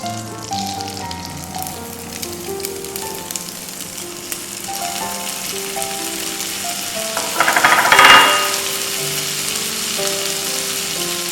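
Fresh peas saute in melted butter in a pan for an Indian egg and peas curry, giving a loud, continuous sizzle that swells into a brief hiss near the middle, with no talking.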